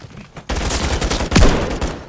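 Turret gunfire in Call of Duty Modern Warfare 3 bursts out loud and dense after a brief quiet start, a rapid sustained volley with a heavier boom-like hit midway, continuing to the end.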